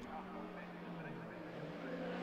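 Racing cars from an SMRC Sports & Saloons race sweep through a dip on the circuit, a steady engine drone holding near and loud for the whole stretch while a commentator talks over it.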